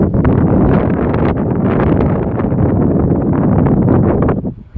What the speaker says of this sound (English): I know that's wind